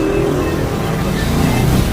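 A ten-seater jeep's Isuzu 4BC2 diesel engine idles steadily nearby, a constant low rumble with no break in level.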